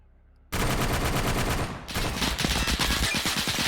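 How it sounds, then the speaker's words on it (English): Sustained machine gun fire in Arma 3, loud and continuous bursts starting abruptly after a brief quiet lead-in, with a rapid rattling rhythm that briefly dips before resuming at full intensity. "this machine gun start shooting at him"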